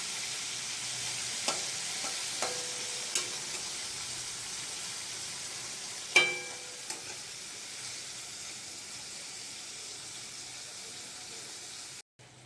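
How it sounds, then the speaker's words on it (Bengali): Bitter gourd fries in a wok, giving a continuous soft sizzle throughout, broken by a few light clinks of a stirring utensil, with one louder clink midway. "উচ্ছে ভাজাটা হয়ে গেছে"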